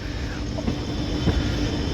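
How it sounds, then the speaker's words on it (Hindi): Gomti Sagar Express 16094 arriving at Kanpur Central station, a steady, loud rolling rumble of the train with faint clattering wheel noise throughout, with no voices. "तो ट्रेन का हमारे कानपुर सेंट्रल की तरफ अराइवल हो रहा है, आ रही है।"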